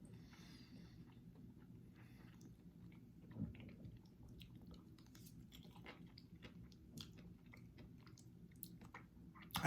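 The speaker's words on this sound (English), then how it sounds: "there are people who hate chewing noise" Quiet, close chewing and biting on snack food such as calamari, kimchi and seaweed snack, soft squishy crunches repeating over a steady low background hum, with a slightly louder bite near the end.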